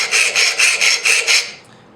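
A hand tool scrapes marks into wooden floor planks in six quick, rhythmic close-up strokes, each a rough rasping pass, before falling quiet.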